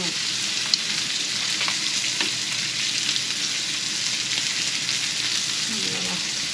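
Steak sizzling in a cast iron pan for a Fourth of July lunch: an even, hissing sizzle holding steady for several seconds, with faint clicks and a brief low voice-like murmur toward the end.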